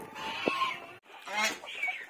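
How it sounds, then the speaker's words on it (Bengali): A hen clucks in short bursts alongside a goose, both close by in a backyard pen as they come out together at night. "রাজহাঁস আর মুরগি 2টা একসাথে বেরোচ্ছে"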